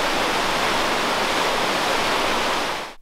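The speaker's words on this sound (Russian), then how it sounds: "А это подземная река, которая и образовала все 6 этажей пещеры." An underground river rushes through Kizil-Koba cave in a dense, continuous roar of flowing water that stays loud and steady, then cuts off abruptly at the end.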